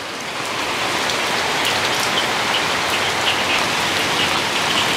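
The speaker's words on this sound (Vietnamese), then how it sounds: "Mưa từ ngày hôm qua tới ngày đêm hôm, ngày sáng ngày hôm nay mưa liên tục không có ngừng." Heavy, continuous rain pours down in the Mekong Delta countryside, a dense steady hiss of drops on surfaces that swells within the first half second and then holds loud and unbroken, with no voices.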